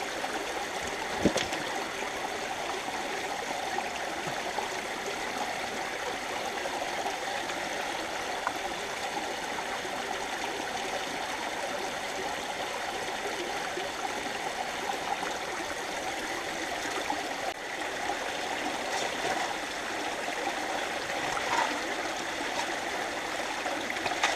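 Water rushes steadily through a gold prospecting sluice in a stream near Todmorden, a continuous close gurgling flow with no pauses and no speech.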